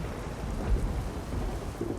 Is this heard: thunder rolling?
yes